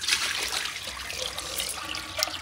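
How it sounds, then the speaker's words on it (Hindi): Water poured into a cooking pot over a wood fire while preparing desi chicken curry outdoors, a steady splashing, trickling pour lasting the whole moment, close and moderately loud with no talk. "पानी डाल देते"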